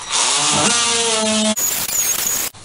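Power tool cutting through half-inch drywall while repairing a hole, a loud steady buzzing cut for about one and a half seconds, then a higher whining tone as the blade runs on, close up with no talking.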